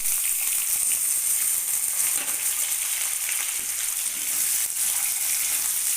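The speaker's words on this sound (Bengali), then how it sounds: "কেটে রাখা আলুর টুকরোগুলোকে এবার দিয়ে দিতে হবে ভাজার জন্য" Potato pieces fry in hot oil seasoned with whole cumin, a loud close sizzle with a dense, even crackle that runs continuously without talk.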